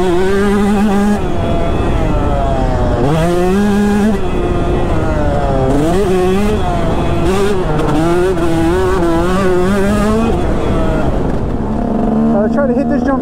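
A KTM 150 two-stroke motocross bike rides over jumps, its engine loud and close, repeatedly revving up in high, buzzing rises and dropping back as the throttle opens and closes, continuous throughout.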